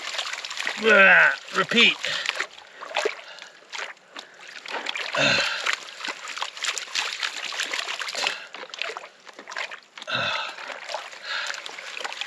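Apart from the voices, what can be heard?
water sloshing while washing and rinsing a gold pan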